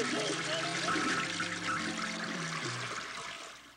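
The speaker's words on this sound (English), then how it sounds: "Oh no, the message went down the drain, Toad!" Cartoon water swirls and gurgles down a bathtub drain in a broad, continuous wash, loud and steady before tapering off, with a voice briefly sounding over it.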